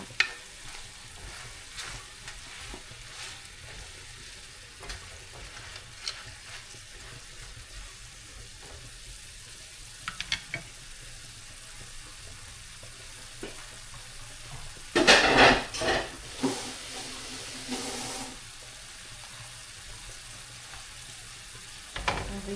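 Onions frying in a pan for pork bistek, a low steady sizzle with a few clatters and a brief louder burst of hissing midway.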